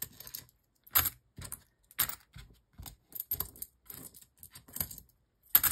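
Paper cash being handled and slid into an envelope, with crisp rustling and crinkling in short separate bursts, close and moderately loud, no talking.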